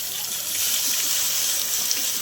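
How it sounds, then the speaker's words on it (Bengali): Water poured into a cooking pot of simmering peas for a chicken and pea ghugni, a steady close splashing gush that lasts a couple of seconds. "আরো একটু জল দিয়ে দিচ্ছি।"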